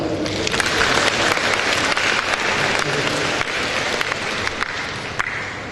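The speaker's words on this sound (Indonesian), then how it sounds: "Tepuk tangan." An audience at a public technology lecture breaks into loud, sustained applause, a dense wash of many hands clapping that holds steady throughout before easing slightly toward the end.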